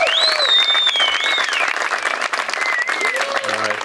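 A crowd at the 2025 Illinois Disc Golf Hall of Fame induction ceremony gives the inductees a round of steady, dense applause, loud and close, with a few voices and whistles rising over the clapping.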